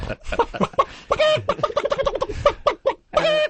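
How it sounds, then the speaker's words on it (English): Hens clucking and squawking in quick, choppy bursts, loud and close, with brief gaps between calls, alone without talk. "Those fucking hens."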